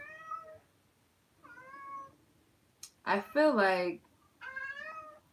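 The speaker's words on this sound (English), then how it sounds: "Let me let my cat out." A house cat meows several times, short drawn-out calls with pauses between them, one louder and longer than the rest, and a person talks briefly near the cat.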